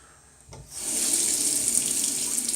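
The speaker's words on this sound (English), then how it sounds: "High efficiency washing machine." A high efficiency washing machine begins filling with water, a steady rushing flow that starts abruptly about half a second in and continues loud and close, with no talking.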